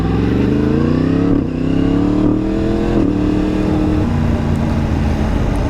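A loud Yamaha MT-10 sport motorcycle engine revs up close, its pitch climbing steadily through several gear shifts, with constant roaring engine noise throughout.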